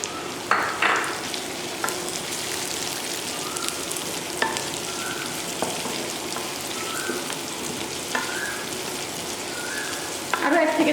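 Onion and garlic frying in a pan, a steady close sizzle and crackle with occasional stirring clinks and scrapes, broken by a few faint tonal chirps in the background.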